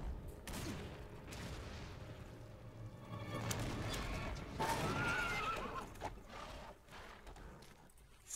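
A horse whinnies and neighs in the video game Devil May Cry 3, amid hoof clatter and rumbling action sounds, the neigh rising clearly in the middle over a busy, moderately loud game mix.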